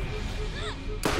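Enemy gunfire in the Borderlands co-op shooter, steady dense firing noise throughout with a loud broadband burst near the end, set against game music and effects.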